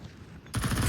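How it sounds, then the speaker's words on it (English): A scout sniper rifle fires in a Counter-Strike 2 match, one sharp, loud shot cracking in halfway through a short moment of quieter game ambience. "The scout's got to hit something, and it gets a body shot."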